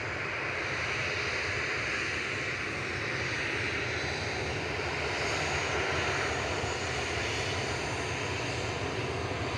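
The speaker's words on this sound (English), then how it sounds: "This next one to go though, lining up on 23 left, is going to Brussels adjacent to Charleroi." Ryanair jet lining up on runway 23 left at Manchester Airport for a Charleroi departure, its engines a continuous loud rushing hum, steady and unbroken, with no talk.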